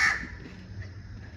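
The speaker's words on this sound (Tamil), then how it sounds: "இது நம்ம காக்கை கூட்டம்." A flock of crows cawing, with a harsh call loud and close at the start, then ongoing calls and rustling blending into a low, steady outdoor background.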